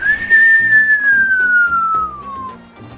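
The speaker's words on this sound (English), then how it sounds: "Apparently whistling works too." A person whistles into a microphone for the Captain Toad video game, a single sustained tone that slowly glides downward over soft game music.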